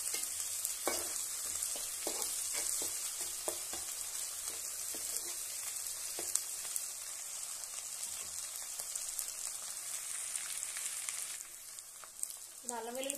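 Ginger garlic paste sizzles steadily in a hot pan while a spoon stirs it in scattered scraping strokes, the frying hiss constant and close throughout. A voice speaks briefly near the end.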